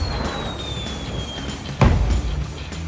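Fireworks go off in the video game Sea of Thieves, with a sharp pop and bang standing out among softer crackles and whistling tones.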